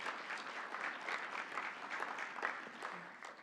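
A small group claps together for a few seconds at a conference closing ceremony, steady and fairly soft, with no voices over it.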